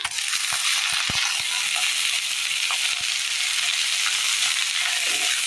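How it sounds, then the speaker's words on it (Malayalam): Watermelon's white rind hits a hot pan, a loud, dense frying hiss with a few crackles and clacks at the start, then a steady sizzle throughout, no voices. "ഇതിലേക്ക് നമുക്ക് തണ്ണിമത്തങ്ങയുടെ ആ വൈറ്റ് ഭാഗം ഇട്ട് കൊടുക്കാം."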